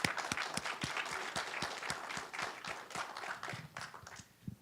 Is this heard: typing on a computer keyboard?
no